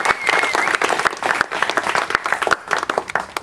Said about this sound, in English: Let's start with a round of applause for our graduates